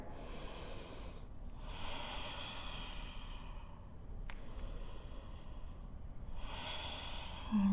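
Deep belly breaths in a yoga downward dog come as slow, close, breathy inhales and exhales, about four long airy cycles separated by short pauses.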